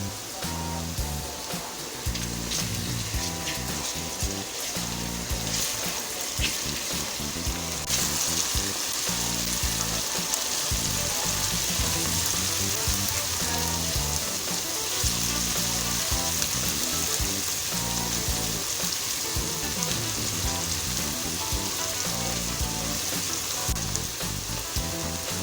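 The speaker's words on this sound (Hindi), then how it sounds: "लहसुन को भी घी में अच्छी तरह से फ्राई कर लेंगे, इसका कच्चापन ना रहे।" Garlic ginger paste fries in hot ghee in a pan, a steady dense sizzle and crackle that holds at an even level throughout with no talking.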